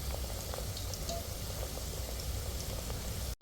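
Afghan bosragh dough puffing as it fries in well-heated oil, a steady, even crackle and fizz like light rain that holds all the way through, broken by a brief clatter at the very end.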